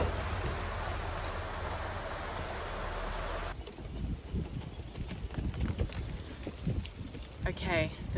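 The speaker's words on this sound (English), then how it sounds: "it is still bucketing down with rain" Heavy rain pours down at a horse yard in a steady, dense hiss for the first few seconds, then turns thinner and patchier with scattered knocks and taps.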